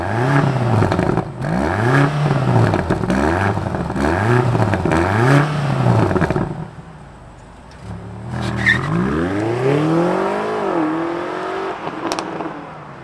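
A 2023 BMW XM starts and its engine is revved hard several times in quick rhythmic blips, then settles briefly before another rising rev, loud and close.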